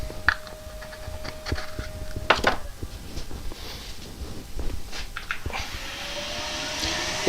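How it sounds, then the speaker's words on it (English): A wood lathe turning a pedestal bowl runs with a steady motor hum under scattered knocks and handling clatter, and the motor pitch rises near the end as it speeds up. "Get the lathe spinning and then we can buff that up."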